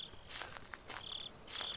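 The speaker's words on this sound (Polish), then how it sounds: "Oczywiście świerszczyki." Crickets chirp in the night woods of Slender: The Eight Pages, a few short high trilling bursts, faint and quiet, with soft rustling between them.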